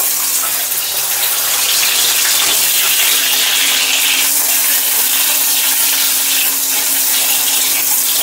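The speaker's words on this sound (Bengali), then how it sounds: "ডিমগুলো আমি হালকা সাদা তেলেই ভাজলাম।" Eggs frying in a shallow layer of white oil in a pan, after soybeans were fried, a steady dense sizzle and crackle filling the whole stretch at close range with no talk.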